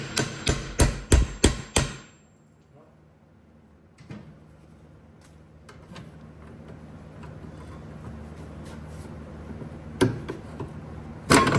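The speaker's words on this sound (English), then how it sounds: "Let me see if I can hammer it down a little bit." Five sharp metallic hammer blows in quick succession on a rear suspension part of a 2011-2015 Kia Optima during a rear brake job, then a quieter stretch with a single knock and another pair of strikes near the end.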